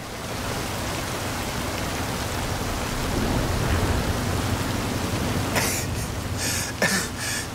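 Steady, dense rain pours in a broad wash of noise during a jungle storm in Forza Horizon, heavy and constant, with a few sharp crackling bursts near the end.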